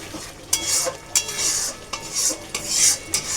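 Spice masala for dhaniya chicken being stir-fried in a pan, oil released as the water cooks off, with rhythmic spatula scrapes and taps every half second or so over a gentle sizzle, close and without talking.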